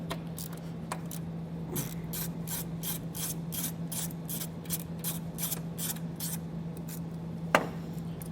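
A ratchet clicks in quick, even bursts as it works a 10mm nut on a vehicle's ground post, with a faint steady hum underneath and one sharp knock near the end, and no talking.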